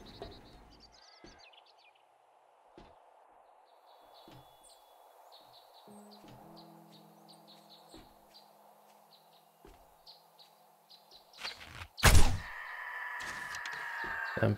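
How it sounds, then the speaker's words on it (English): Birds chirp in the 7 Days to Die video game, with light repeated tweets over a quiet ambient bed. A few faint clicks are scattered through, and a sudden loud crack near the end is followed by a louder sustained noise. "And birds."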